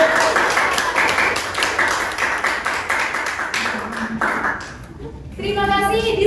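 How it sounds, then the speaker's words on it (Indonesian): A school literature and culture festival audience gives a short burst of clapping that fades after a few seconds, followed by a voice speaking over a microphone. "Beri tepuk tangan sekali lagi untuk"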